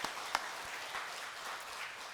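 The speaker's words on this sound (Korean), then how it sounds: "우리 박수하겠습니다." A church congregation applauds during a Sunday worship service, producing a soft, continuous wash of clapping heard from a distance with no distinct individual claps.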